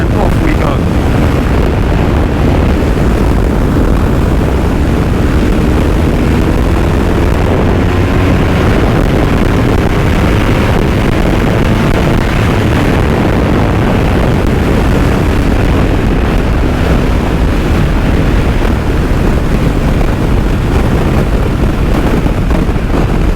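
BMW R1250R boxer-engine motorcycle accelerating in fifth gear without a downshift: a steady, heavy roar buried in strong helmet wind noise, continuous and loud throughout.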